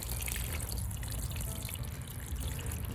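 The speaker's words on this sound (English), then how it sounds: "Just pour it around, just to make sure that they get what they need." Water poured from a container onto the soil around small garden plants, a steady close splashing trickle that runs continuously without a break.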